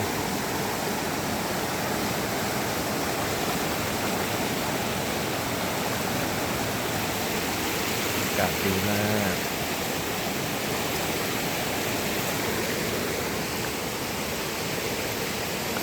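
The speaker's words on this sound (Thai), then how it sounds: "ฟังเสียงน้ำตก" Wang Ta Krai waterfall roars with a steady, dense wash of flowing water that fills the whole clip at close range, with a brief spoken remark partway through.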